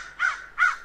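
A crow gives two loud, harsh caws close by, evenly spaced with a short silence between them.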